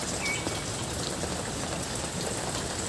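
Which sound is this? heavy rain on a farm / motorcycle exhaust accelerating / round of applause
heavy rain on a farm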